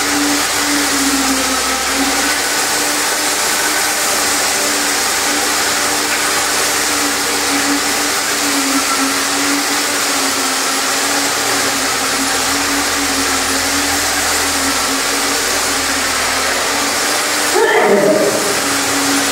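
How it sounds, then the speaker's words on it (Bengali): A paint spray machine coats a room's walls with colour, giving a steady, loud, unbroken whirring drone that runs throughout, with a brief louder surge near the end. "এই যে আঙ্গু ভাই কালার মারতেছে মেশিন দিয়া"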